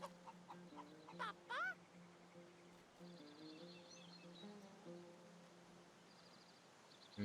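A rooster clucks faintly in the fantasy role-playing video game Divinity: Original Sin 2. A few short clucks come in the opening seconds over a quiet ambient game soundtrack.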